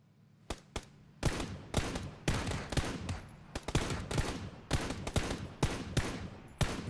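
Close, loud gunfire in a combat video game, a steady series of sharp shots and automatic bursts repeating over several seconds with no talking.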